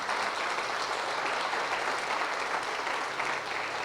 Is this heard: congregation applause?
yes